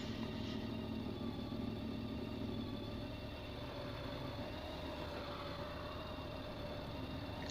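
A Tilting Motor Works Trio motorcycle pulls away from a stop, its engine a steady, close drone that holds level throughout with no voices.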